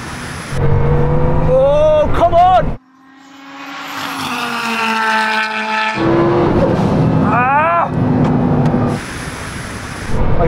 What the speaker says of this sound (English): That rallycross car absolutely nails it off the line.